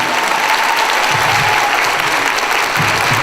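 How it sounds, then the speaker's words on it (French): A crowd at a Korean drama fan party in Paris claps loudly and continuously, a thick, close wash of applause filling the whole few seconds, with a faint murmur of voices beneath. "다시 한번 큰 박수 부탁드립니다."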